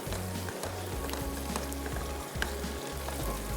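Masala and oil fry over high flame in a pan for makhni bhindi, a faint, steady sizzling hiss under a low humming background tone.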